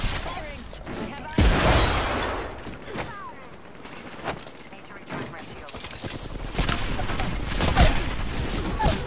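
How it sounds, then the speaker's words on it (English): Rapid bursts of gunfire ring out in a video game firefight, sharp loud volleys around two and eight seconds with softer shots between, mixed with clatter and game noise while players talk over the action. "Firing. Firing."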